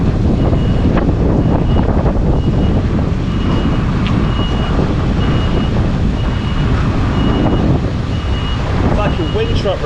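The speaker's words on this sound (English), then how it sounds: "Wind has definitely picked up" Strong wind buffets the microphone outdoors near Wrexham, a loud continuous low roar throughout, with a faint intermittent beeping far in the background.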